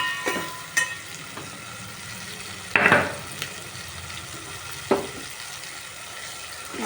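Taro root curry simmering in a pot, with a faint steady sizzle and a few soft utensil knocks, one louder scrape near the middle; no one speaks.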